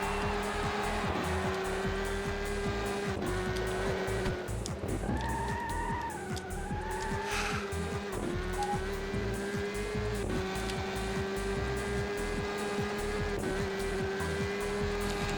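Race car engine in the Le Mans 24 Hours PS2 game, revving steadily with gear shifts and brief tire squeal through corners; loud, continuous and close, with no talking.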